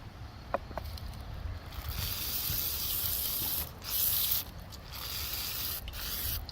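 A spray bottle of cleaner is spritzed onto a string trimmer head in a few short, hissing bursts, close by and moderately loud, the longest burst in the middle, with faint handling rubs between sprays and no talking.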